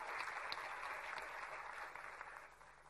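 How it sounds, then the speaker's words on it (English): Audience applause at the inauguration of an Atal incubation centre, a steady wash of many hands clapping, heard faintly and at a distance, slowly tapering toward the end. "A big hand of applause."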